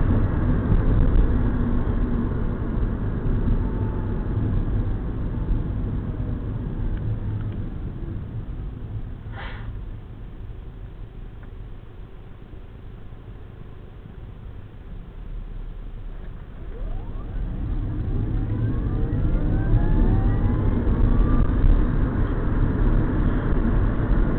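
An electric Mini Cooper drives along in chill mode, giving a steady broadband road and tyre roar with a faint rising electric whine, heard from inside the car.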